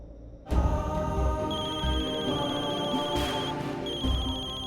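A mobile phone rings loudly and continuously with a repeating melodic ringtone, close by and steady, with no talk over it.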